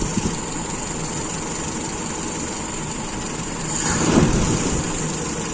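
Carbureted engine idling steadily after an idle air screw adjustment, a low, even rumble that swells briefly as if blipped and then settles back to a stable idle.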